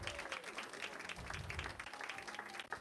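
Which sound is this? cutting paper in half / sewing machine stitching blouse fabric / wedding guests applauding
wedding guests applauding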